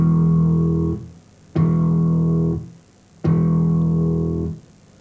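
Slap bass notes played twice, each a sharp click followed by a clear, ringing bell-like tone that sustains about a second before fading, close and alone.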